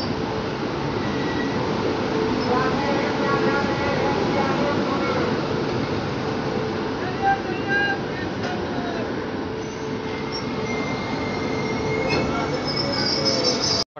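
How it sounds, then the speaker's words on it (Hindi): Kamla Ganga Express pulling into Barauni Junction, a steady loud rumble of rolling rail cars with high wheel squeal and screeching tones throughout, continuous and close, ending abruptly. "हमारी ट्रेन आ चुकी है बरौनी जंक्शन पे।"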